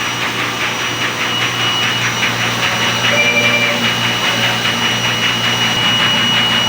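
A DTF printer runs a head-cleaning cycle and nozzle test, giving a steady, loud mechanical whir with a continuous broadband hiss and low hum, plus faint brief tonal whines partway through, with no talking.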